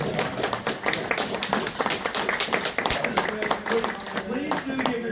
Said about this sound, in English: Please do give yourself some applause.